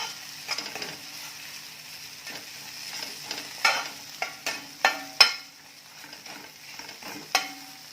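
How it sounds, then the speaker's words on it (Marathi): Kolhapuri onion-garlic chutney sautés in hot oil for a bottle gourd curry, a soft sizzle broken by sharp scrapes and clinks of a spoon stirring against the pan, with no voices. "चटणी घालून छान तेलावर परतायचं"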